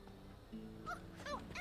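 A dog in the Final Fantasy 16 video game gives several short yips and whimpering barks over a low ambient game background, fairly quiet and with no talk.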